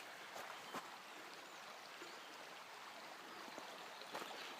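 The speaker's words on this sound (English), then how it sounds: "Nothing like running water." Running water of a stream behind a house, a soft continuous rushing and trickling at moderate distance, with a few brief splashy bursts and no voices.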